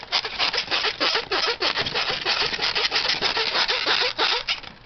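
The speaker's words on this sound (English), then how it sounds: "Styrofoam egg cartons." A Styrofoam egg carton is rubbed in quick repeated strokes, giving a loud, close squeaky scraping that rasps in an uneven rhythm with no voices.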